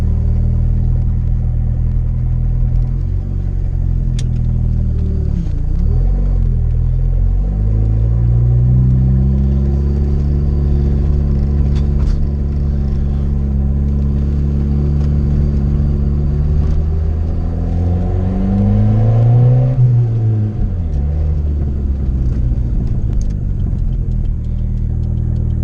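A big-turbo Volvo with its boost controller turned up two turns accelerates hard, engine rumble climbing in pitch through the gears, close and loud, with a brief dip and a final surge before backing off.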